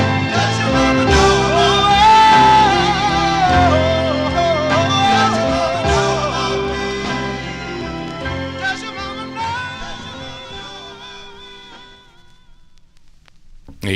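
A 1960s soul record plays from vinyl, full band and vocals, steady then fading out toward the end.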